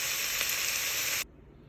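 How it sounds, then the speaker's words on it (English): Sausage browns in a kettle for a low-carb Zuppa Toscana, giving a loud, steady, close-up sizzle of frying fat that cuts off abruptly near the end, leaving faint background noise. "So I'm going to brown it, and when it's all brown, I'll rinse it and just drain the grease off"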